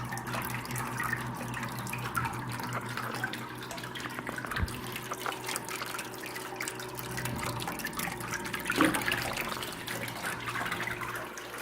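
Water streams from a bank-style fountain turned up to a higher flow, a steady, even splashing and trickling that runs continuously at moderate level with no voices.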